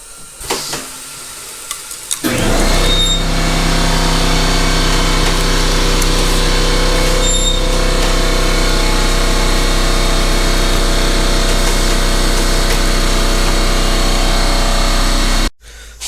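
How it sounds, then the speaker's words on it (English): An air compressor fills the tank of a tire-changing machine, starting up after two seconds with a loud, steady motor drone and pumping rumble that runs unbroken for about thirteen seconds, then cuts off abruptly. "So the air just finished pumping."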